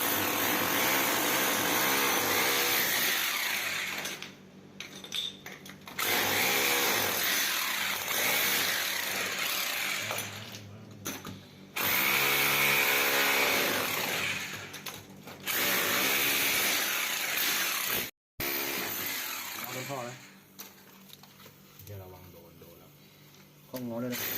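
A power drill whines loudly in long bursts, boring into a house floor to reach a leaking water pipe beneath, stopping and restarting several times, with brief quieter gaps where a voice speaks.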